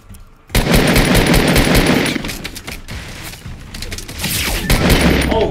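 Heavy gunfire in Fortnite Battle Royale with a sniper in play: a loud burst starts abruptly and runs as dense, rapid shots, dips briefly, then picks up again with more shots near the end.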